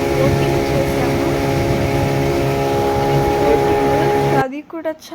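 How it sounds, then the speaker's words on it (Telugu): A motorboat on Pykara lake drones with a steady engine hum and tonal whine for most of the stretch, then cuts off abruptly as a voice starts speaking at the end. "ఇంకా నెక్స్ట్ మేము పైకారా బోటింగ్ చేసాము"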